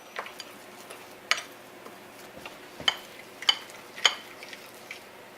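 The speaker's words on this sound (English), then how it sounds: "And then you stir slowly. And as you stir, you will find that it'll start to make like a paste." Charcoal poultice paste stirred slowly as it thickens, with intermittent light clinks and scrapes of a utensil against the container every second or so, close and quiet with no talking.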